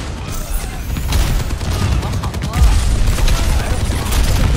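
An explosion in the video game Overwatch 2 comes amid rapid gunfire and crackling blasts, loud and close, with a heavier booming burst midway through the dense combat noise.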